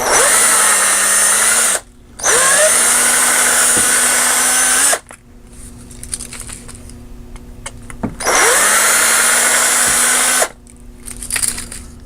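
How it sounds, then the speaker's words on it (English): A loud, high-pitched power drill whines in two long bursts while drilling out a part on a 1/64-scale model car, spinning up and cutting off, with quieter rattling and handling noise between them. "I'm going to have to drill this out first here."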